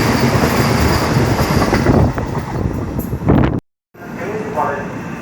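The Vande Bharat Express running from Kasaragod to Trivandrum Central gives off a loud rolling rumble with wheel noise. It drops out abruptly for a moment, then the quieter rolling resumes.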